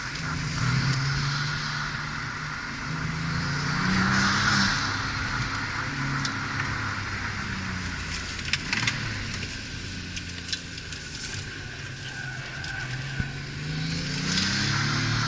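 A Porsche 911 997 Turbo in soft suspension mode cruises along a familiar road, its engine a steady low drone under broadband tire and road noise, with a few light rattles and thumps.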